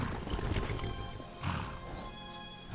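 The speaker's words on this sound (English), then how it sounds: "Okay, get on your horse." Horse in modded Skyrim video game whinnying, a loud close neigh rising about midway over a soft bed of hoof thuds and ambient game sound.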